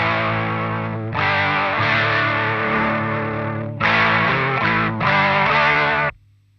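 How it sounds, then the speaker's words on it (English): Distorted electric guitar through a Kurtz Cologne modulation pedal cranked to a very fast rate, feeding a delay, several sustained chords with rapid warbling shimmer, short gaps between phrases, and a cut-off at the end. "So you can hear that very fast modulation."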